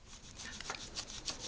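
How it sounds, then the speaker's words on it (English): Light, brisk rubbing of a cloth with blue polishing compound over a watch, done by hand: soft close scratchy strokes in a quick uneven rhythm, with no voices. "and then I just hand rub it"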